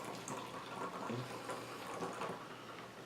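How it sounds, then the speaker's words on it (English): Guinness beer pours straight down in a steady, faint, continuous gurgling stream, with no talking. "it's Guinness, so I'm just gonna pour straight."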